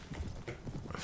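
Horse hooves clopping in a rapid irregular rhythm during a battle in the video game Anno Domini 1257, steady and moderately loud with muffled battle noise around them and no clear whinny.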